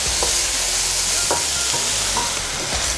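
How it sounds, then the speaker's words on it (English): Broccoli stir-frying in a wok, a loud continuous sizzle close up with spatula scrapes and stirring knocks at irregular intervals throughout. "We add our broccoli into the wok, and then we stir it, mix it in nice and well"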